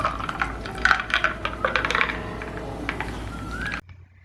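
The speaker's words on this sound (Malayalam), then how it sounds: "ഞാൻ കുറച്ച് ഐസ് ക്യൂബ്സ് ഇട്ട് കൊടുക്കുന്നുണ്ട്." Ice cubes drop into a glass of pineapple welcome drink with a quick run of bright, close clinks and rattles, then a short quiet settling; no talk.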